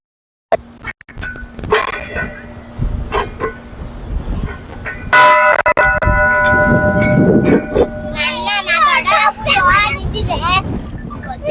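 A Jain temple bell near Nanjangud rings out in sustained, resonant tones for several seconds, amid gusty wind noise and nearby voices of people talking.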